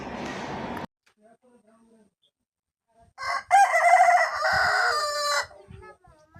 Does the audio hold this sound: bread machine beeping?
no